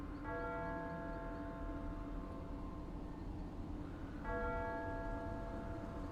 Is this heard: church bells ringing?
yes